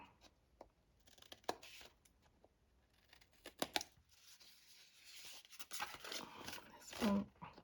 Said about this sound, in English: just fold it back up and cut along the triangles that we'd already done